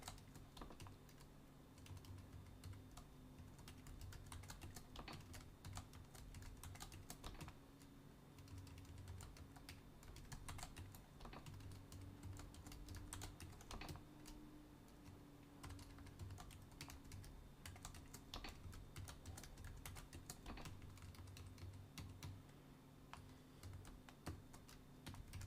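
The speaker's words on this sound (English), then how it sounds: "It's a lot of bloody typing this way." Fingers typing fast on a computer keyboard, a dense stream of close, light clicks and taps that runs without letup over a faint steady hum.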